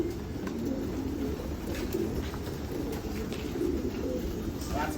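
Pigeons coo steadily and softly under low-frequency rumble, a continuous murmur of cooing through the whole stretch with no clear talk.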